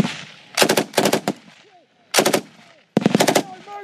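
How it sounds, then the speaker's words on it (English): Machine gun fire during a firefight between British forces and the Taliban: loud close bursts of rapid automatic shots in several clusters separated by short pauses, with a faint distant voice between the bursts. "As they move out, the Taliban shoot at them from a new location"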